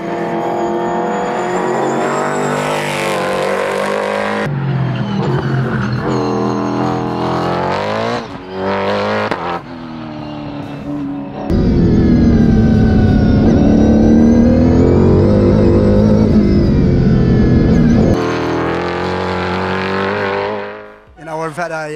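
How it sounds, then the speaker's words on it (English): An S5000 open-wheel race car at Winton roars through the gears, its engine note rising and falling with revs and gear changes, loud and close, then a heavier sustained blast before it fades away briefly. "Richie up and about, fit and healthy, and to see a guy with his experience in an open wheel car really jumping that S5000 today"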